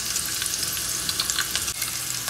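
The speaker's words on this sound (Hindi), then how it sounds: "तो लास्ट में जब तड़का लगता है तो इसका टेस्ट बहुत बढ़ जाता है" Tadka tempering for chole masala, with chopped green chilli and Kashmiri red chilli added to hot oil, sizzles and crackles continuously and loudly up close, a steady bright frying hiss with no talking.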